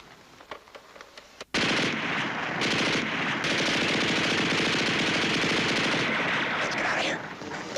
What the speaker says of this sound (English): Feuer eine Runde.